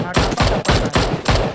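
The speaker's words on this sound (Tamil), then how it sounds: "மறுபடியும் அடிக்கிறான்டா அவன் என்ன போல்ட் ஆக்ஷன் வச்சிருக்கா" Repeated loud gunshots from PUBG fire in an even rhythm, about five close booming reports each with a short decaying tail.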